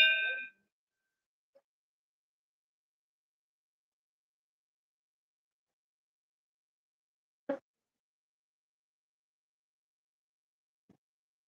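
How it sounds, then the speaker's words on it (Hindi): A temple bell in Rudraprayag, Uttarakhand, struck once with a single sharp clang in near silence, followed later by a fainter, softer strike. "घंटी जी"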